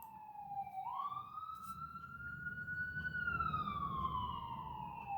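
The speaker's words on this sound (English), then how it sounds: "Ambulance." An ambulance siren passes outside, its wailing tone rising and falling steadily and heard at a moderate distance over a low rumble of traffic.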